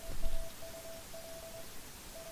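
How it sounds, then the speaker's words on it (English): Morse code beeps from the game A Story about My Uncle sound as a thin, steady tone broken into irregular long and short pulses, quiet against a soft rustling background, with no talking. "Sounds like Morse code."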